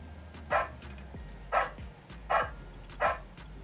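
A Mercedes A-Class car voice assistant imitates a dog, giving four short barks at a steady, evenly spaced rhythm over a low hum of cabin noise.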